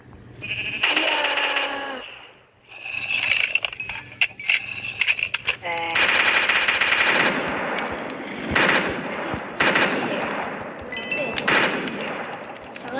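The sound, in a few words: gunfire in a video game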